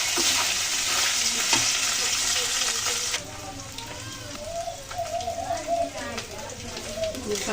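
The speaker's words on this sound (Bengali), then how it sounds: "পেঁয়াজ হালকা ভেজে নিলাম, এখন এই মাছ দিয়ে দিচ্ছি" Puti fish frying in a pan with onion and green chilli gives a steady, loud broadband sizzle that eases after a few seconds as stirring continues, with a voice talking over it.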